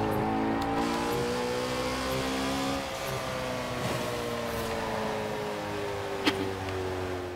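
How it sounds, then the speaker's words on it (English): A car engine in Forza Horizon 4 revs and holds a steady droning tone, easing slightly in pitch partway through, loud and close with no talking. "Oh my god, I missed this engine sound."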